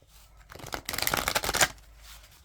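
Cards riffle and slide together in a quick, close shuffle, lasting about a second with no talking.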